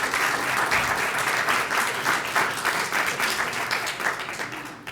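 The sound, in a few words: audience applause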